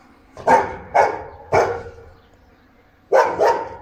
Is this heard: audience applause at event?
no